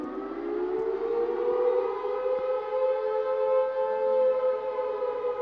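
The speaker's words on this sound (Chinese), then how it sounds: "然后到了最后，有听到一声警报" An alarm siren from the Plants vs. Zombies video game wails as a loud, steady, rising tone with layered harmonics, sounding continuously and alone for the whole stretch.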